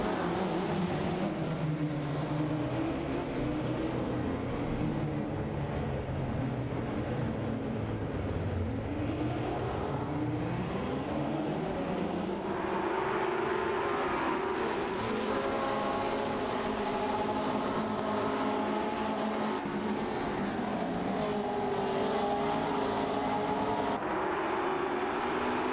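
Race cars roar continuously in a racing video game, with engines whining and shifting pitch as they speed along, loud and steady throughout with no voices.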